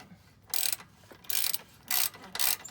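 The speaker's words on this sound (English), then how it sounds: "it helps to have the wrench to hold it in place. So we'll remove that bolt" A wrench turns the bottom bolt of a Fox 2.0 rear shock, giving four short, quiet ratcheting clicks spaced evenly apart, close up against a hushed background.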